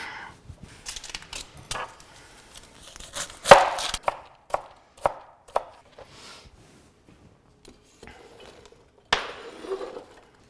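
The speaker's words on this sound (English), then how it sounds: "We'll chop up the carrots, celery, same thing." A knife chops carrots and celery on a cutting board, giving a string of crisp, uneven taps up close that thin out into a few scattered knocks.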